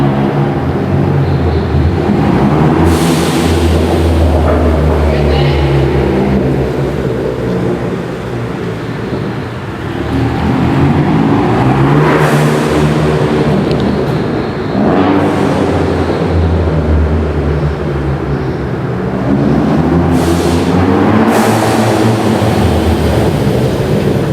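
A Ford Focus ST fitted with a TurboSmart blow-off valve passes outside, loud engine surges rising and falling in several waves with sharp bursts between, no talking.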